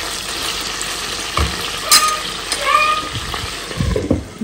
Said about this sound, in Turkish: kısık ateşte kızartmaya çalışıyorum